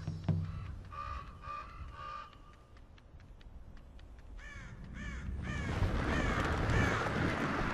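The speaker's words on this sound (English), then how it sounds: "crows are now a force to be reckoned with" Crows cawing in the Tearaway Unfolded video game, a series of harsh, repeated caws from several birds, some sharp and close, building over a rising wash of background game noise with no speech.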